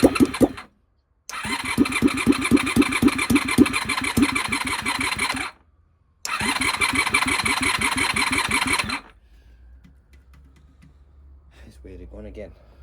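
A Honda VFR400 NC30 motorcycle engine cranks and fires in two long bursts of rapid rhythmic chugging separated by a short pause, loud and close, then cuts out to quiet background with faint noises.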